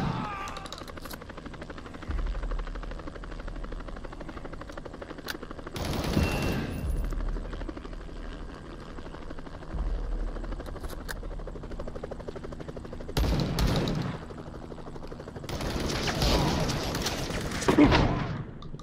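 Video game gunfire in bursts, with loud rattling volleys and booms several seconds apart over a low, steady engine-like drone.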